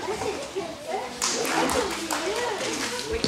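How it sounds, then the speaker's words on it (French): A group applauds first-grade pupils at a school in a room full of chatter and children's voices. The clapping grows into a dense burst partway through, and an adult speaks over it. "Oui, on peut les applaudir."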